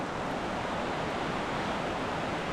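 Wahclella Falls in the Columbia River Gorge, a tall waterfall in mist and damp air, gives a dense, unbroken roar of rushing water, loud and even throughout, with no voices.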